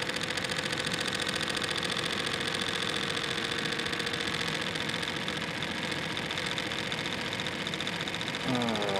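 Bedini North Pole electric motor running steadily, a continuous loud whirring hum with a fast pulsing buzz that holds constant throughout, with no talk over it.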